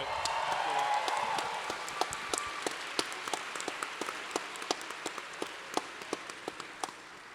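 Large convention audience at a PAX Prime mainstage panel applauding and cheering: a dense wash of clapping that starts loud and thins into scattered individual claps toward the end.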